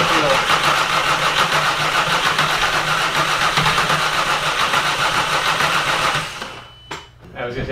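A Jetta GLI swapped with a 3.6L VR6 engine cranks, then runs roughly at a steady loud level for several seconds before cutting out, while people talk nearby.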